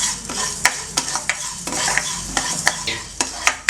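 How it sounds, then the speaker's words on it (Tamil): Mustard seeds roast in oil in a pan while sambar powder is made at home. Close, steady sizzling is broken by sharp scattered pops and light scraping, with no talking. "இதிலே எண்ணெய் இருக்கிறதுனால இதிலே நான் வறுத்துக்கிறேன்."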